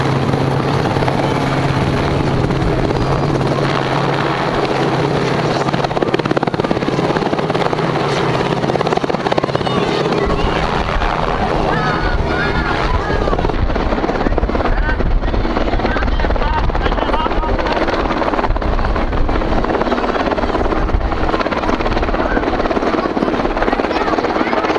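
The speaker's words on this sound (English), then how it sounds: "Chad, we're waiting for the helicopter to drop the eggs so we can go and pick them up with Alexis." A helicopter flies overhead at an Easter egg drop, its rotor a loud, continuous thumping drone that shifts in pitch as it passes, filling the whole stretch.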